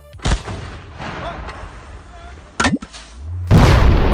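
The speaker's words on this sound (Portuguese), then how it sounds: "alguma bomba de rua" Street bomb bursting in a school toilet: a few sharp booming blasts, the loudest near the end, with a voice speaking between them.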